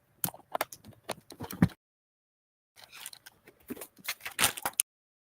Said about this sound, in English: Shuffling the laptops around again.